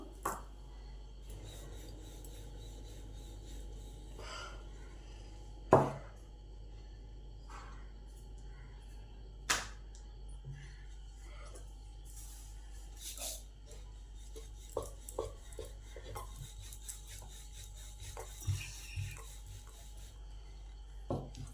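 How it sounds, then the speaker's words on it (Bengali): Mughlai paratha dough rolled thin with a rolling pin on a board, giving a steady rasping rub with occasional sharper knocks of the pin, close up, with no talking. "যতটা পারেন বড় করে বেলবেন, কারণ এটা ফোল্ড করতে হবে মোগলাই পরোটার মতন।"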